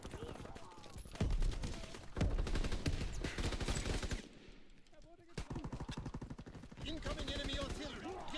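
Shotgun fire in Call of Duty: WWII, heard as rapid bursts of loud close gunshots in a dense battle mix, with brief pauses and game voice announcements over it.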